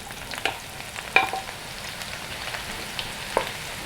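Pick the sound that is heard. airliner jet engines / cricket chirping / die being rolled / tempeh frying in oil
tempeh frying in oil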